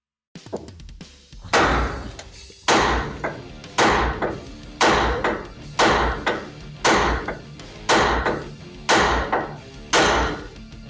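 A 2-pound hammer strikes metal on a Chevy OBS truck, about ten heavy blows at a steady pace, each a loud clanging thud with a short ring, alone without talk.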